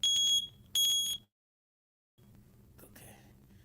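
A wall-mounted smoke detector gives two loud, shrill beeps in quick succession, then goes quiet, followed by faint rustling and handling noise nearby.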